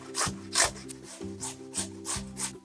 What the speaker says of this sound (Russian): Берем одну большую крупную картофелину и натираем на крупной терке.